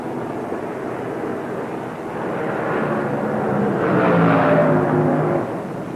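Vintage 1950 Indianapolis 500 race cars roar past on the oval, a loud, continuous engine drone that swells as the pack nears and peaks before easing off, with no voices.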